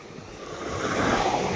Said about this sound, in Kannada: ನೀರು ಬಿಟ್ಟಿದ್ದಾರೆ ನೀರು ತುಂಬ ಹರಿದು ಹೋಗ್ತಾ ಇದೆ